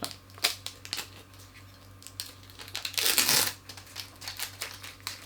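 Bubble wrap packaging peeled off new side repeater lights for a campervan, close crinkling and crackling with scattered pops and one louder rustling burst midway, no talk.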